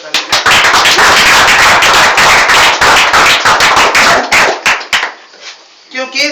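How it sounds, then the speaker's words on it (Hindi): A motivational talk audience bursts into loud, dense applause for a participant, with sharp, continuous clapping at close range that breaks up into scattered claps and stops before a voice returns. "वेरी गुड, विजय के लिए जोरदार ताली।"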